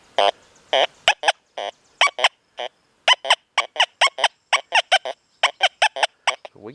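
A Deus 2 metal detector, set to silencer 2 with pitch tones and no notch, gives short warbling beeps for iron targets. They come in quick irregular clusters, loud and close, with brief gaps between sweeps.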